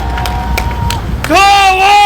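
A crowd claps together at an outdoor campaign rally in Guri, a sustained burst of applause that rises after a pause, with a loud voice amplified over a sound system just before.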